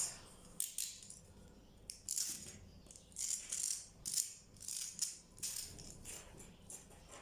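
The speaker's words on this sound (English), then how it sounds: "I'm going to go ahead now and cut open the inner part" Scissors snip through the inner fabric of a handmade peacock fascinator, a series of short crisp cutting bursts with quiet pauses between, close and fairly faint.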